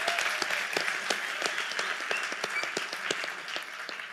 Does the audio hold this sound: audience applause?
yes